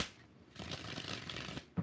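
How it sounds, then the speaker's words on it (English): Tarot cards riffle-shuffled in a quiet room, giving a soft papery flutter that swells into a steady rush for over a second and ends with a sharp tap of the deck. "All right, 6 shuffles."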